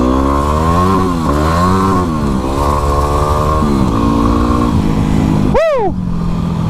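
A dual-sport motorcycle engine revs hard and high, its pitch climbing and dipping through several loud pulls, then ending in a sharp sweeping drop near the end, close and with no talking.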